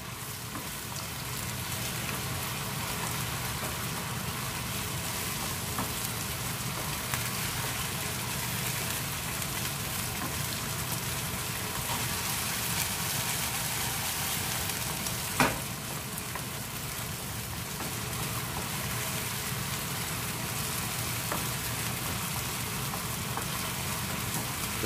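Shrimp stir-fry with chili sauce in a hot pan, giving a steady, dense sizzle and crackle throughout with only faint scraping, no voices.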